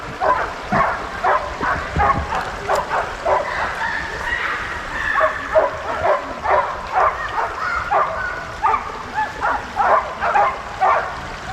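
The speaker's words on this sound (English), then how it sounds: "I guess there's a dog park down there." Several dogs bark and yip in a steady scattered series, sounding somewhat distant, with a faint background hiss.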